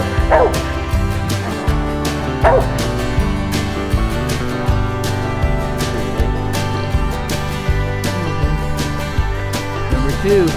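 A hunting dog barks and yips on a leaf-covered woodland floor during a squirrel hunt, a few sharp barks early on over steady rustling and background noise.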